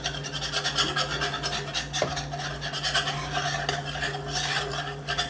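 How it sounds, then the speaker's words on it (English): Whisking flour into gravy in a cast iron pan, a continuous rapid scraping and stirring of a whisk against the metal, close and steady with a low background hum. "we have to whisk in the flour and cook it so that it doesn't have a floury taste"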